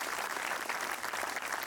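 Outdoor crowd applause at a community 9/11 memorial ceremony with Scouts and Exchange Club flags, a soft, even patter of many hands that stays steady and somewhat distant for the brief moment.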